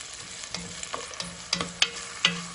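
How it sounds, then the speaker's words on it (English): Carrot and other vegetables sauté in olive oil with a soft, steady sizzle, broken by several sharp scraping stirs of a utensil against the pan that grow a little louder toward the end. "into the olive oil. And I'm just going to saute it for a bit"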